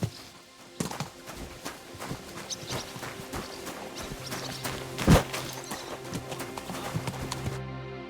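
Horse hooves clip-clop steadily during a horse race in the video game Kingdom Come: Deliverance II, a fairly close rhythmic pounding with a sharp thud midway and faint background ambience.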